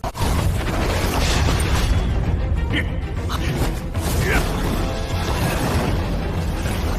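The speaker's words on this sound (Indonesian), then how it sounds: "Sehingga terjadilah sebuah ledakan, menandakan betapa kuatnya pengaruh yang ditimbulkan Yunsan." Explosion in an animated Chinese martial-arts fight scene, a dense, sustained roaring blast with rumbling low end and crackling debris filling the whole stretch, no clear pauses, loud and close.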